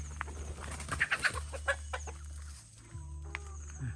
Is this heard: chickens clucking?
yes